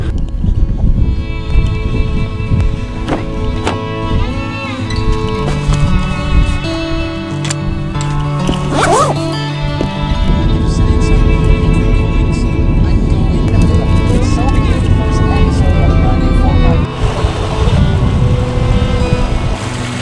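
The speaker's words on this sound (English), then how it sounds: "So bear with me on the wind in this episode." Strong, gusty wind buffets the microphone on a damp, cold day in the Wicklow Mountains, a loud continuous roar with tonal rumbles throughout.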